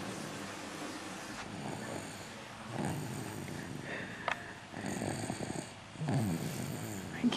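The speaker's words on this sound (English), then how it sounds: "Even angels snore." Soft snoring from a sleeper, slow, quiet breaths with rasping stretches, recorded close in a calm room.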